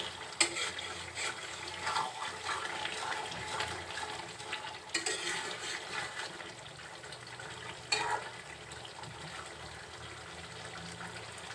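Mutton curry cooking in a pot, with a soft, steady simmering sizzle and a few sharp clanks of a spoon stirring against the pot, fairly quiet and close, no talking.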